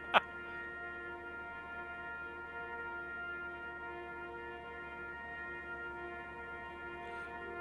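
A deep, sustained train horn drones steadily, a rich tonal blast held evenly throughout after a sharp click at the start, moderately quiet and unbroken.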